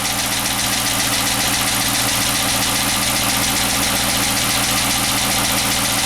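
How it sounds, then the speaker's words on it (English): A Chrysler 300 engine idles loudly and steadily after a misfire repair, with an even, continuous rumble heard close up and alone. "but the engine is not misfiring anymore"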